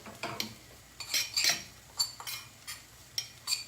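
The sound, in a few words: stirring spices in a cooking pot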